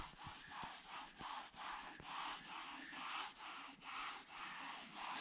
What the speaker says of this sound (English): Got a little bit on our microfiber rag here, so we're going to go ahead and start rubbing that in.